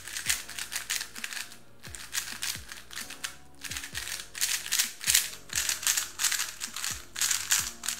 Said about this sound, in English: Here you can listen to both cubes side by side.